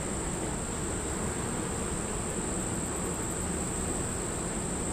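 A healthy honeybee hive buzzing steadily and densely up close, a continuous even hum with no breaks.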